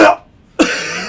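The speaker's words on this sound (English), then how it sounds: "I had to cough in between that joke." A single cough from a man on a gaming chat show, one short burst, a brief silence, then a harsher rough burst, close and loud with no talk over it.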